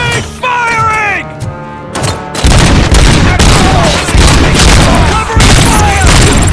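Heavy gunfire from a bank heist shootout in the RoboCop Rogue City video game, starting with a brief musical passage and then loud dense bursts of shots and booms running continuously, with shouted voices mixed in.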